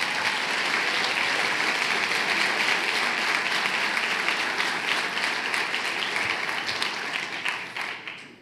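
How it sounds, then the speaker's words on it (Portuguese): A church congregation at a family conference gives full, steady applause from many hands for several seconds, and it tapers off quickly at the end. "Pode aplaudir Jesus?"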